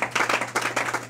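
Congregation in a church clapping together in a steady, dense burst of applause, fairly loud and close, with rhythmic swells and no talk over it.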